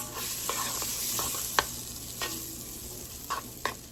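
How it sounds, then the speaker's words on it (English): Unsalted butter melting in a multicooker's sauté pot, giving a steady soft sizzle with a few sharp utensil taps and scrapes close by, and no voices. "I want to start out by melting a couple of tablespoons of unsalted butter in the bottom of this"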